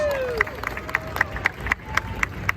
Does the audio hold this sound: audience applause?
yes